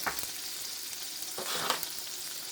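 Bologna fries in a pan for a bologna, egg and cheese bagel sandwich, giving a steady close sizzle with a few faint scraping touches.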